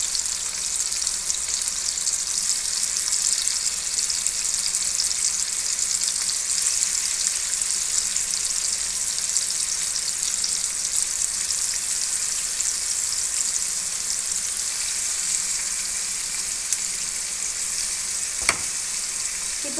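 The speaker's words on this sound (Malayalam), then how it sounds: "ഇപ്പോൾ ഞാൻ എല്ലാ ഫിഷ് പീസസും ഇതുപോലെ വെച്ച് കൊടുത്തിട്ടുണ്ട്. നമുക്ക് ഒരു മീഡിയം ഫ്ലെയിമിൽ വെച്ച് വേണം നമ്മൾ ഫ്രൈ ചെയ്യാനായിട്ട്." Tuna fish pieces fry in oil over a medium flame, giving a steady, even sizzle that continues unbroken for about twenty seconds with a brief clink near the end, and no one speaks.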